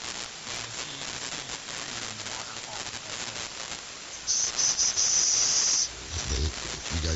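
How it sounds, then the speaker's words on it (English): Room fans in a ham radio operator's room: a constant broadband whooshing hiss runs throughout, with a brief brighter, louder stretch partway through and a faint low thump near the end. "That's just my room fans going here."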